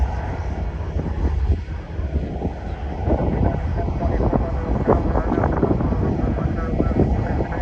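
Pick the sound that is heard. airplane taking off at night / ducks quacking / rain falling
airplane taking off at night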